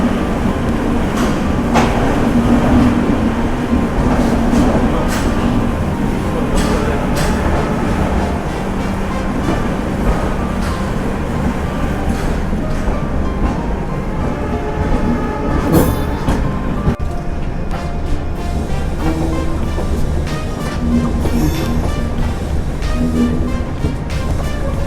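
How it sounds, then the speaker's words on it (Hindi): The Ashram Express departs Ajmer Junction, and a steady loud rumble of a moving train fills the scene throughout, a dense continuous roar with faint clanks and no voices. "उससे पहले मैं आपको डिपार्चर बताता हूँ अजमेर जंक्शन"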